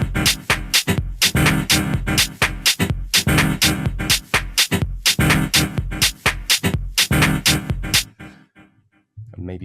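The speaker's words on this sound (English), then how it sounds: "a dirty old piano sound like that." Dirty, old-sounding piano chords run through an 8th-dotted delay at 125 BPM, played in choppy rhythmic stabs with echoing repeats, loud and dense, then trailing off into faint decaying echoes at the end.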